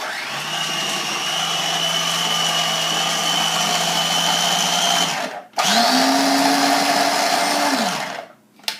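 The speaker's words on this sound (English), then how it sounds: "I'm going to put my lid on, and it locks into place, and I'm ready to puree this." A kitchen blender purees pesto of fresh basil leaves and fresh Parmesan, a loud steady motor whir running for about five seconds, then a brief stop and a second sustained burst at a different pitch before it cuts off.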